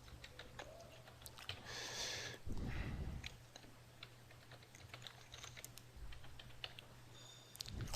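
A computer keyboard is typed on in quick, soft clicking bursts while a password is entered during a software installation, the keystrokes close and faint in a quiet room with no talking.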